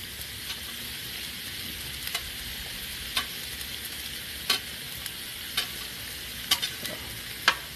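Peppers and onions fry in a pan with a steady hiss and sizzle, while scattered clicks and scrapes of stirring break through the sizzle every second or so.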